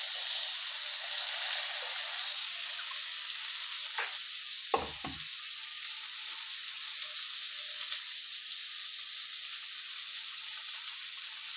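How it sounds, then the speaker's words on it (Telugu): Broad bean pieces sizzle in tempering oil, a steady soft hiss throughout with a brief clatter of something dropping into the pan partway, fairly faint and without talk. "ఇప్పుడు వీటిని చిక్కుడుకాయ ముక్కల్ని తాలింపులో వేసుకోవాలి."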